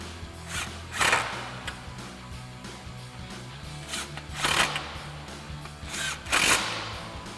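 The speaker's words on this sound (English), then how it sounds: "Now we can go ahead and tighten down all of our nuts with our 10 mil socket on our impact" An impact wrench with a 10 mm socket tightening nuts while fitting nerf step bars to a Jeep Wrangler TJ, giving three or four short, loud buzzing bursts between quieter handling noises.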